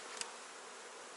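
Young honey bees buzz on a brood frame lifted from the hive during an autumn inspection, a soft, steady close hum with one brief sharper tone.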